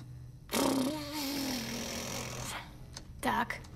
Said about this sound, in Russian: заводим двигатель